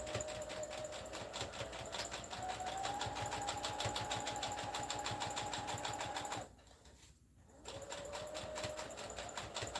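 A sewing machine stitches in a fast, even rhythmic clatter with a steady motor whine, pausing briefly near the end before resuming.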